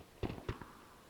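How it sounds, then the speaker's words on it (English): Distant gunfire in the PUBG video game, a couple of quick muffled shots with a soft follow-up, faint against low background hiss. "It sounds like there's gunfire off to my right."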